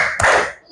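A single sharp clap in a classroom clap game rings out clearly at close range, with a short bright burst that fades quickly.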